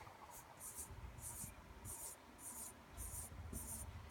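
Marker or chalk writing out a C major scale on a board in a classroom: a faint, rhythmic series of about eight short scratchy strokes at a steady pace, quiet and close with no talking.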